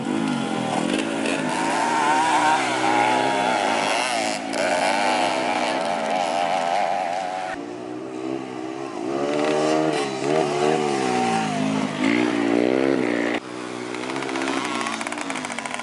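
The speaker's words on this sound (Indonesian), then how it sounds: "Motocross dipakai untuk balapan motor off-road di sirkuit yang sudah dipersiapkan." Motocross motorcycle engines rev hard and continuously, a loud, close, buzzing roar that rises and falls in pitch with throttle sweeps.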